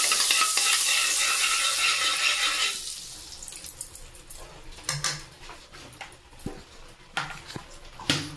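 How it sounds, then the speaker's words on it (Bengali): Chicken stirred in a pan with white oil and butter, a loud sizzling wash for the first few seconds, then quieter scraping and clinking of the spoon in bursts, close by with no talking. "তো এটা আমি নাড়াচাড়া করবো।"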